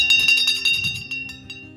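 A small hand bell rings in quick repeated shakes, bright and metallic, close and fairly loud, then slows and fades with lingering tones.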